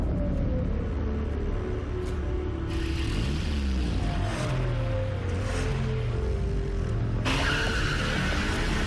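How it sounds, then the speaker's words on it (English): A Kia K5 GT slaloms, corners and accelerates, with the engine rising and falling and tires squealing, loud and close under music-like background and no speech. "The K5 GT beats the BMW 330i in slaloming, cornering, and acceleration."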